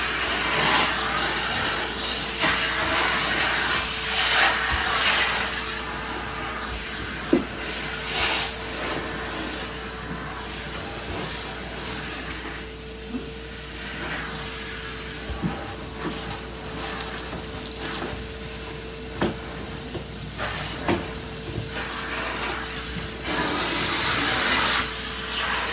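A Bissell Big Green carpet cleaner runs steadily for the whole stretch with a constant motor whine and a broad rushing hiss of suction, broken by occasional clicks and bumps as it moves across the carpet.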